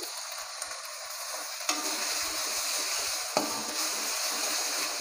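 A spoon stirring balado egg sauce with bay leaves in a hot pan, with steady sizzling and frying throughout and two brief scraping knocks against the pan, close and alone.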